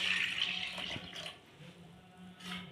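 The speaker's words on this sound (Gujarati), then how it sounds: "ત્યાર પછી 1 કરશિયો પાણીનો નાખી દઈશું" Water pours briefly into a metal pressure cooker, a soft splashing rush that fades, followed by a quieter trickle.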